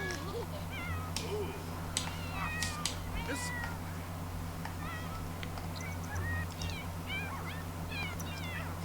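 A cat in The Sims life-simulation game meows repeatedly in short, insistent calls scattered across the clip, moderately close over a steady low background hum.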